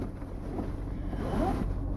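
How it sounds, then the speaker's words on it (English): Wind buffets the microphone in a steady low rumble, gusting a little stronger partway through, with no voices. "it's windy outside"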